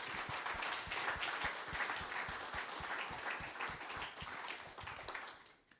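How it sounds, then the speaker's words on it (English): An audience at a Celtics 75th Anniversary All-Celtics Team ceremony claps steadily in a dense, fairly distant round of applause that fades out near the end. "Please give them a round of applause."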